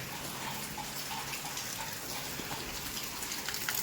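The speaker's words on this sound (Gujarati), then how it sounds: "અહીંયાથી પાણી પડે વરસાદ તો જેવો તેવો આવીને રહી ગયો" Steady rainfall drums on surfaces around a rural farm home, a dense, even patter of drops close by with no voices, continuous across the short stretch.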